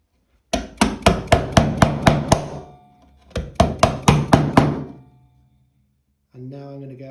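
A 17 degree chisel cuts wood toward a scribe line with two quick bursts of sharp, evenly spaced taps, about seven and then five, followed by a brief voice.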